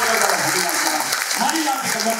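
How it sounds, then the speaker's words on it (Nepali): A church congregation in Nepal claps together, producing dense, loud, continuous applause with voices mixed into it. "हामी ताली बजाएर धन्यवाद चढाउँ प्रेयर"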